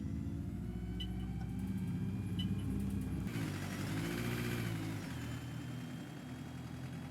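A simulated ADL bus engine in OMSI 2 drones steadily while driving, a loud low rumble with a rise in pitch as it revs up partway through, then settling back down, no one talking.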